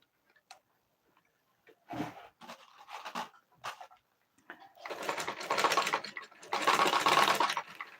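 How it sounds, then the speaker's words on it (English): Sewing machine stitching the neckline of a simple kids' dress, running in short bursts at first and then in two longer, louder runs, close up with no talk. "we're going to go ahead and stitch on our neckline"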